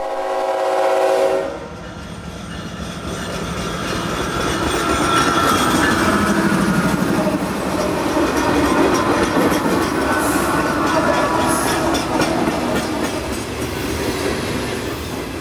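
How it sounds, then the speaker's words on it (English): A CSX freight train rolls in at night to the Nichols phosphate mine: a loud horn blast opens, then a steady, building rumble and clatter of rail cars passing close by. "That is, of course, until a train shows up."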